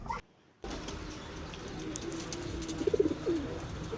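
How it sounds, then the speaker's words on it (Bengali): A pair of master lakka pigeons coo softly against quiet background hum, with a brief pulsing run of coos near the end after a short silent gap at the start. "খুবই ভালো জাতের পায়রা এই দুটা"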